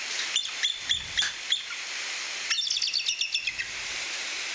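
Bird calls played during an animal trivia game, a run of sharp, high chirps in quick succession, loud and close over a faint hiss, no voices.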